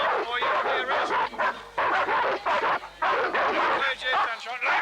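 Police dogs bark and yelp in rapid bursts at protesters during a tense standoff, with shouting and chaotic voices throughout.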